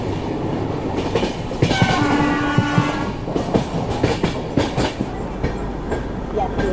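A Humsafar Express runs on the Ahmedabad–Mumbai main line with loud, close rumble and rhythmic wheel clatter, a horn blast sounding partway through, the rolling noise continuing steadily throughout.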